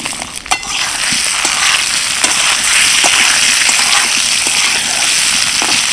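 Pieces of food for a tiffin snack drop into hot oil and settle into a loud, even hiss of frying, with a few early splashes and light pops scattered through the steady sizzle.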